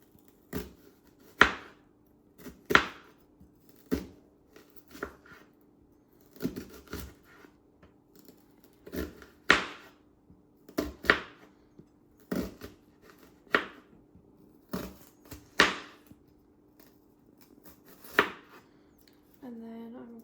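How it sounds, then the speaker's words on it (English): A knife slices through an ingredient on a cutting board while preparing Thai red curry, about fourteen crisp, separate cuts at an uneven pace, close and clear against a quiet background. "once it's cut in half, I'm going to slice it up into the root"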